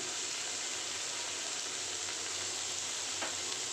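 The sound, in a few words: frying vegetables with turmeric and salt for eggplant fritters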